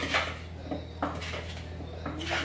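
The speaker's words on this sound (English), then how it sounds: "Give that a quick stir to coat them with the oil." A few soft metallic clinks and scrapes of a utensil against a pan, irregular and close, with a steady low hum underneath.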